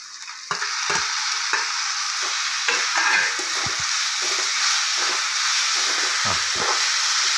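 Tomatoes frying in a pan with onion, ginger, garlic and green chili for an egg roast: a steady close sizzle and hiss runs throughout, broken by repeated scraping strokes of a stirring utensil.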